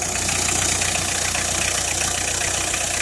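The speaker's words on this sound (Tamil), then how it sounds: "அண்ணன் ஸ்டார்ட் பண்ணுறாங்க வண்டியை." A car engine idles steadily nearby after an engine flush treatment at an auto workshop, a constant low rumble with a faint rhythmic knock and no other sounds.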